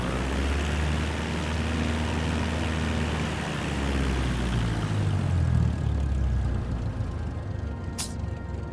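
Airplane taxiing along a runway in Microsoft Flight Simulator 2024, a steady propeller engine drone with low rumble throughout that shifts pitch midway, plus a brief high tone near the end.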